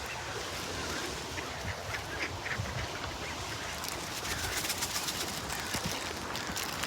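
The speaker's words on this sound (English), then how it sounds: "Feeding the birds." A dense flock of ducks and other birds quacks and honks continuously while being fed, busy overlapping calls close by with no talk.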